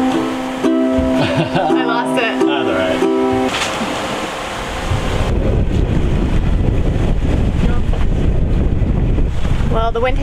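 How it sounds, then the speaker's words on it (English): Wind blowing hard while sailing a boat off the Pacific coast of Mexico, a loud rushing roar buffeting the microphone, with water wash and a voice talking near the start. "Well, the wind has shifted."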